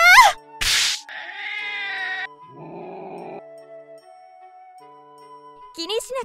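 A pet cat gives a few short meows amid a small jingle, with spoken voices nearby and quiet gaps between sounds.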